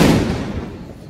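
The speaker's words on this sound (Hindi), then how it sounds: "अरे ये सुतली बम्ब है ये" A sutli bomb firecracker bursting during a family Diwali celebration, one loud close blast that decays into a fading rumble over about a second.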